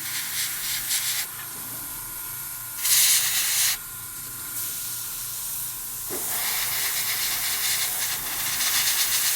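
Bursts of fine, airy hissing from an airbrush spraying model paint start and stop, then settle into a longer continuous spray, close by and fairly even in loudness.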